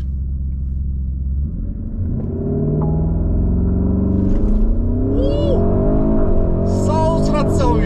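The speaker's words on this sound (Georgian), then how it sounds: "ეხლა ის გადაგვჩენია რომ კარგად დავსტარტოთ ავტომობილი." A Porsche Cayenne Turbo GT launching hard, a deep loud engine rumble that builds and climbs in pitch as the SUV accelerates, with tyre or wind noise rising toward the end and a voice heard faintly underneath.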